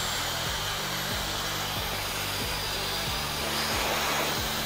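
A hair dryer on medium heat blows continuously and loudly at close range during a drop fade haircut on wavy hair, with a steady rushing whoosh and a faint pulsing motor tone underneath.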